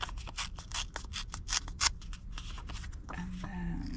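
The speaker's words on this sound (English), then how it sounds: "if we tore" Scrapbooking paper is torn along its edges in a quick series of short, close, crisp rips, followed by a softer rustle of paper at the end.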